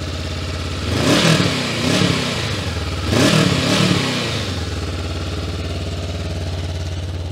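A Jawa RVM500 Adventure motorcycle engine idles steadily, then is revved twice in short blips that rise and fall before settling back to a low idle.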